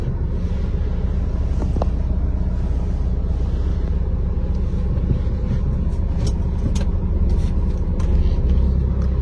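2016 Suzuki Ertiga diesel MPV rolling in second gear without throttle, a steady low engine rumble and road drone heard from inside the cabin, with faint wind noise and no speech.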